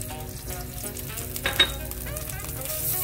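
Butter and oil sizzling in a pot while popcorn is being made, a soft continuous frying crackle with a brief clink of a utensil against the pot midway, no voices.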